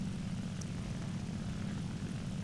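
A steady low propeller-engine drone from a Focke-Wulf aircraft in War Thunder at low throttle, even and unbroken, with no voices.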